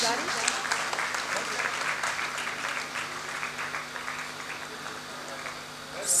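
An audience at a formal function applauds two women guests, one a Hindi professor from Adarsh Mahila Mahavidyalaya, Bhiwani, with sustained, even clapping for several seconds that tapers near the end, as a voice speaks faintly underneath.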